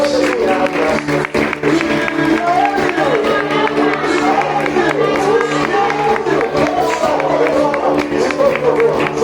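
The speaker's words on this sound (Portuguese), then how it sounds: "aplauda o Senhor Jesus" A church congregation applauds and cheers loudly in praise, dense sustained clapping and crowd noise with voices and music-like tones running underneath.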